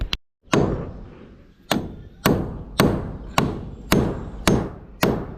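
Hammer blows ring out sharply, eight distinct strikes at a roughly even pace of about one every half second after an opening pair, each with a short ringing decay, close and fairly loud with no talking.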